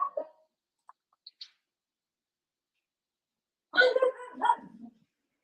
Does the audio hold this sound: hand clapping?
no